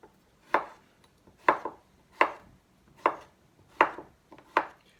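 A knife chopping food into small pieces on a board while preparing chicken colombo: six crisp, close cuts at an even pace, roughly one every three quarters of a second, with quiet between.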